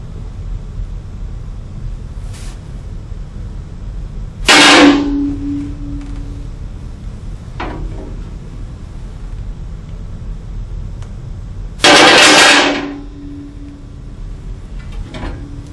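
Two sharp, loud clanks ring out several seconds apart as weights of 5 and 10 pounds drop about an inch onto a glass shelf in a drop test. Each impact rings briefly over a steady windy background, with fainter knocks in between.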